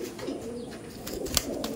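Kabji pigeons, a local Kolkata bird and imported ones, coo in a loft with low rolling calls throughout, and a couple of sharp clicks or flutters cut in near the end.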